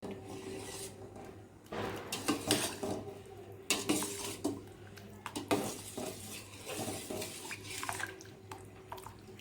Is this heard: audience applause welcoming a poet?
no